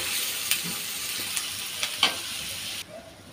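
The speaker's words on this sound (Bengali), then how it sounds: "আমি এখন চিংড়ি মাছের শুটকিটা তেল আর পেঁয়াজ রসুনের মধ্যে ভালো করে ভেজে নিছি কাঁচা গন্ধটা যাওয়া পর্যন্ত" Dried shrimp fry in hot oil with onion and garlic, giving a steady close sizzle and a few sharp stirring clicks before the frying noise abruptly cuts out.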